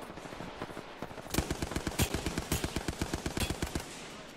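Automatic gunfire in Apex Legends, a quiet stretch giving way to a rapid, steady burst of loud, closely spaced shots lasting several seconds.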